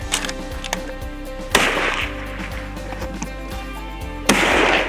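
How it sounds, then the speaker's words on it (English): Two sharp, loud rifle shots crack a few seconds apart while a rifle fitted with Burris optics is sighted in on an Alberta hunting property, over a steady background bed. "After meeting up with Tim, we took a few shots through our Burris Optics."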